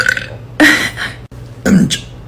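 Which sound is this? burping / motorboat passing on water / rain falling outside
burping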